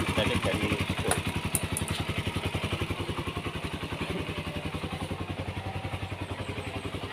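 A Honda CB150R motorcycle engine being kick-started, its fast regular pulsing beat loud and close throughout with a few metallic clatters near the start.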